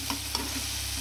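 A paste of ground cumin, turmeric and chili powder frying in oil for tangra fish jhal, with a steady soft sizzle and a few light stirring scrapes, close and without talk.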